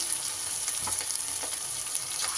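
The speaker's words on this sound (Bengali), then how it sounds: "তেল বেশ সুন্দর মতো করে গরম হয়ে গেলে এইভাবে এবার চিকেনের পিসগুলো এইভাবে এক এক করে দিয়ে ভেজে নিতে হবে" Chicken pieces frying in hot oil for green chili chicken, a continuous bright sizzle with a few faint pops and scrapes, close and steady without talk.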